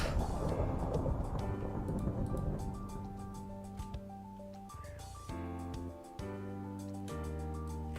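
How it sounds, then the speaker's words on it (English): A deep rumble of thunder rolls loud and broad through the first few seconds, then fades under steady tonal game music and notes that carry on to the end. "Oh, it's thundering!"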